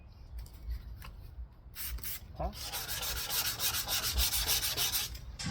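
Wet sanding a taped-up plastic car headlight with 400 grit sandpaper, rhythmic back-and-forth scratchy rubbing strokes up close that grow denser and louder after the first couple of seconds.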